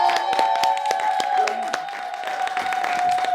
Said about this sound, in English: Ladies and gentlemen, please a round of applause for Right Honorable Emeka Ihedioha in the st